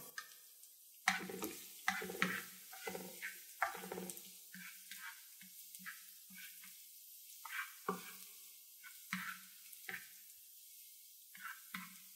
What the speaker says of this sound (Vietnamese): Chảo nóng, chúng ta sẽ cho tỏi vào.